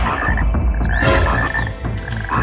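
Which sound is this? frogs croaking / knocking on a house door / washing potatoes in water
frogs croaking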